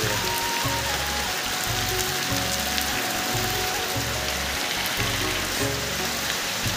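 Steady, dense rain falling and splattering on surfaces, loud and continuous throughout, with a faint rhythmic mechanical ticking beneath it.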